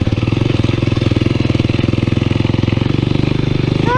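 Honda NX motorcycle engine running steadily and close, a loud, even, rapid pulsing thump throughout with no talk.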